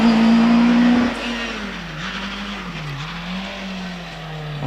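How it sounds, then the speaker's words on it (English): A 3-litre Ford Sierra rally car climbs a hillclimb course with a loud, close engine note that rises and falls through gear changes, then settles into a steady drone as it pulls away. "And that's Harvey Waters in the Ford Sierra, 3 litre Ford Sierra. Running in class H5."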